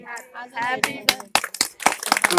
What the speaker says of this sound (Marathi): त्यावेळी सर्वांनी टाळ्या वाजवून त्यांना शुभेच्छा द्यायचे